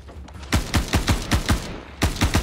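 Rapid gunfire in a Star Citizen junkyard raid, a burst of about ten evenly spaced shots after a brief pause, loud and close, then more shots resuming, with no talk.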